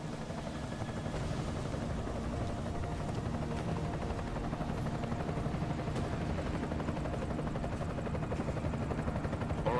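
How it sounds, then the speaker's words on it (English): Enemy helicopter in the video game Deus Ex Mankind Divided, a steady loud rotor thrum and whirring drone held throughout, with no break or talk. "Enemy helo sighted."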